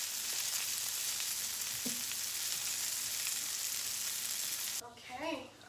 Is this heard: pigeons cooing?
no